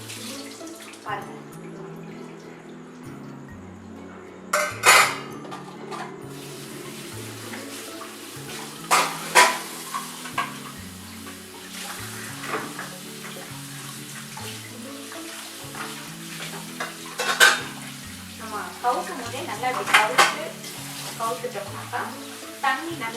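Greasy kitchen vessels are washed under running tap water, with a steady trickle, intermittent splashes and metallic clatter, while a person talks now and then.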